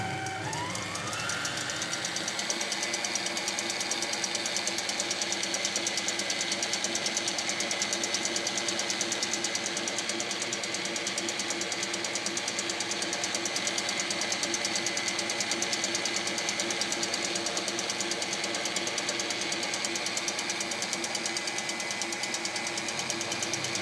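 An electric mixer whips egg whites with saffron syrup, a steady close motor whir running without a break for the whole stretch, with no talking.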